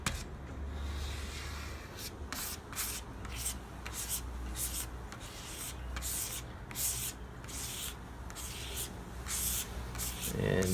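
Aqua Coat wood grain filler being spread and worked into wood grain, a steady scraping, rubbing swish with rhythmic strokes over a constant low background hum, close up.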